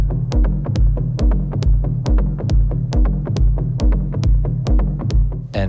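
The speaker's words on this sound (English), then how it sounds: "The effect here is a little bit of Sarajevo delay, which I love and I've been using in conjunction with the SM-1" A Cwejman SM-1 synthesizer module run through a Sarajevo delay, playing a loud repeating pulse of deep throbbing low notes with sharp clicky attacks, a steady mechanical rhythm roughly every half second.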